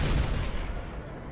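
A tank cannon fires at a Zeppelin in a video game: a single loud, close blast whose roar fades away over about a second, with no voices.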